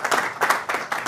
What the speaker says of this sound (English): A round of applause for Edith as she comes.